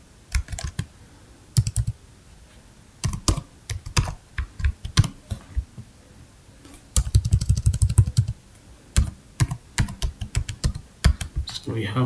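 Fingers type on a computer keyboard while entering text into an Excel spreadsheet cell, producing close, crisp key clicks in irregular bursts and quick runs with short pauses between.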